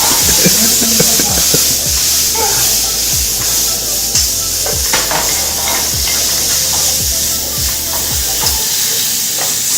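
Mixed vegetables, including a tender broccoli variety, stir-frying in a hot wok: a loud, continuous sizzle with repeated sharp knocks and scrapes as the utensil tosses the food throughout.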